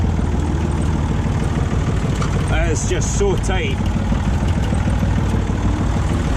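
Tractor engine, a Massey Ferguson 135 on a cattle farm, running at a steady loud drone throughout while someone talks over it.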